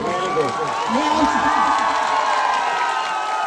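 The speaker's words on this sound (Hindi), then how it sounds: "सभी तालियों की गड़गड़ाहट से एक बार इनका मैं सबका स्वागत करता हूँ" A village crowd at a political gathering in Laxmipura, Bundi, clapping and cheering in a dense continuous roar, with voices shouting through it.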